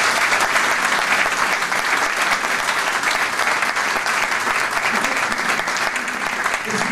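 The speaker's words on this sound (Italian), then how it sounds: "permettetemi di chiedervi un applauso per una persona" Warm, continuous applause from a large audience at a party congress in Imperia, a loud, even roar of clapping that holds steady for the full seven seconds.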